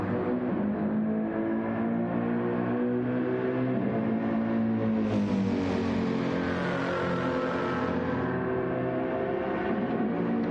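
Race cars in an endurance championship round sweep through the first chicane on lap 29, engines droning steadily and loud, pitch dipping and then climbing again as they brake and accelerate, with several cars overlapping and no voices.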